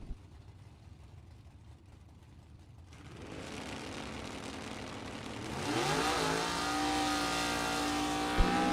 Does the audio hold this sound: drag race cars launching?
yes